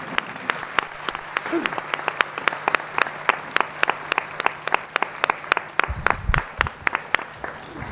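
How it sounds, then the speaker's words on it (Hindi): Audience at a yoga session claps again for the guru, a sparse, loud, evenly rhythmic clapping with sharp distinct claps, a few murmuring voices in the background. "एक बार फिर से उनके लिए तालियां बजाएंगे"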